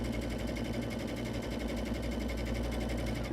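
A sewing machine runs steadily on a quilt piece sewn with ordinary quilting thread, a close, even, rapid needle chatter over a constant motor hum, without pauses.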